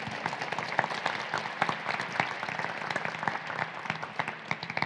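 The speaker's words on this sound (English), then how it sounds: "I want to offer you a round of applause for really your commitment." A roomful of people at a research update applauds for Kelly, and dense, continuous clapping holds steady throughout without rising or fading.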